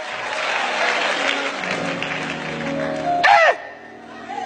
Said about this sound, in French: J'acclame pour toi.